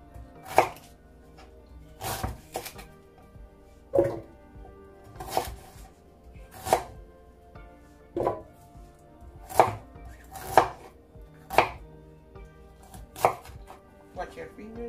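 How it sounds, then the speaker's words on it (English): Knife chopping fresh ginger on a cutting board for a cleansing juice, a dozen distinct sharp knocks at an irregular slow pace, close and clear in an otherwise quiet kitchen. "I'm just gonna cut my ginger"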